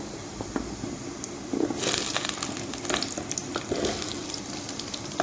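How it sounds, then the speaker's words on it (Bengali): Chopped vegetables hit hot oil seasoned with whole cumin seeds, setting off a steady crackling sizzle that swells sharply partway through and then holds as a dense, close frying hiss with scattered pops. "আর একটু তেল অ্যাড করেছি দিয়ে দিব ফোড়নে গোটা জিরে আর এখানে কেটে রাখা সবজিগুলো দিয়ে দিব"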